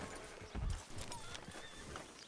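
Horse hooves clip-clopping in the Red Dead Redemption 2 video game, a quiet, uneven run of hoofbeats with a heavier thump near the start amid faint background game sound.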